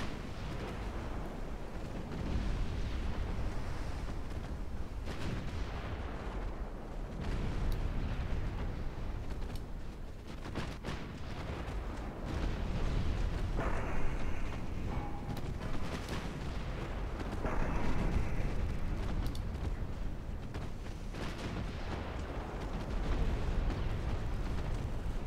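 Repeated heavy booms from 5-inch naval guns in a World War II era naval strategy game, a dense, loud barrage of blasts overlapping continuously with rumbling low end and no talk.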